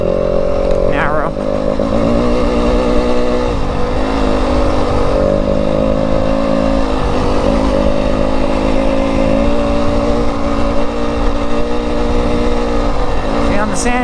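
A 2025 Yamaha WR250F dirt bike rides through loose desert sand in Arizona, its single-cylinder engine droning at steady revs with small wavering pitch shifts, loud and close the whole time.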